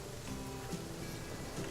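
Steady rain hisses across the scene in the video game The Flame in the Flood, a dense continuous patter with no clear pauses, fairly faint and uninterrupted.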